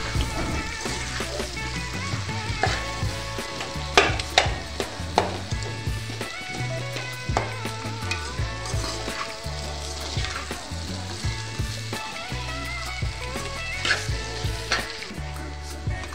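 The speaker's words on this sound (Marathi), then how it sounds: "आता मी हे आलू मसाल्यामध्ये मिक्स करून घेणार आहे" Boiled potatoes being mixed into masala in a pan for a potato chutney: a continuous frying sizzle with repeated stirring scrapes, under music playing alongside.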